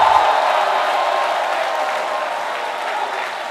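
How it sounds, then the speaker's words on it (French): A church congregation breaks into loud, sustained applause for Jesus Christ, a dense wash of clapping with some cheering that fades only slightly over a few seconds. "On acclame le Seigneur Jésus-Christ."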